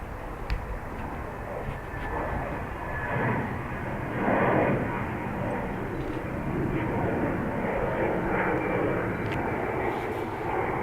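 Ryanair airliner landing at Dublin Airport, a sustained broad engine roar heard at middle distance that swells slightly partway through, steady and unbroken.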